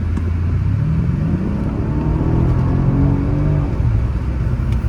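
Mercedes CL63 W216 engine rumbling and revving close by, a deep loud burble with rising and falling rev sweeps over a steady low throb, heard alone without talk.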